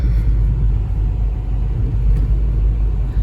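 A car drives along a road, heard as a steady, loud, low engine and road rumble from inside with no speech.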